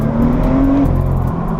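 BMW M2 (F87) with factory M Performance exhaust accelerating hard, a loud, steady engine roar with rising tones heard close from inside the car, no talk.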